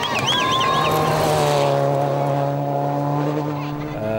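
Rally car on a stage of the KCB Mobile Banking Rally, running with its rear alignment knocked out; a loud, close engine note drops in pitch as it winds down, then holds a steady tone.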